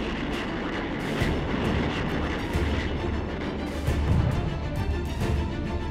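Continuous heavy rumbling barrage of massed artillery fire in a war documentary about the Syrian attack on the Golan, a dense roar with repeated booms blending into one another throughout.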